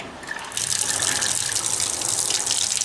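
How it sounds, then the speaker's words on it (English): Cold water bursts from a bathtub faucet fed by new PEX lines, a loud steady gushing rush with sputtering air that starts after a brief quiet moment and continues close by. "I have a helper gonna turn the cold water side onto the tub for me now."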